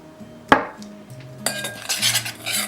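A spoon clinks sharply against a bowl, then scrapes and stirs as ranch seasoning is mixed with black pepper and garlic powder, with close, uneven rustling and tapping.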